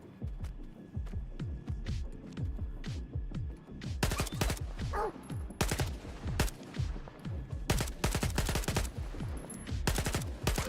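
Automatic gunfire in the video game STALKER 2, repeated sharp bursts and rapid shot volleys, sparser at first then dense continuous firing from about four seconds on, loud and close over a low hum.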